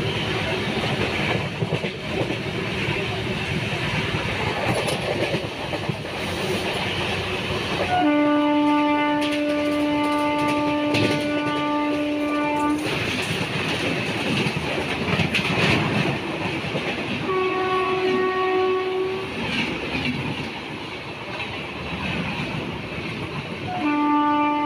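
A passenger train travelling from Purulia rumbles steadily throughout with clattering wheels, while its horn sounds in two long, loud blasts and then a shorter one near the end.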